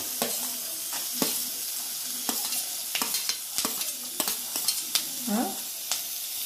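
Capsicum frying in a pan for a homemade chicken soup, a steady close sizzle broken by repeated scraping clicks of a spoon stirring, with no voices.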